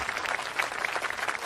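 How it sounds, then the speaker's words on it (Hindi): A crowd claps together at a farewell event, fairly soft and a little distant, a dense patter of many hands that carries on steadily without voices over it. "जोरदार तालियां"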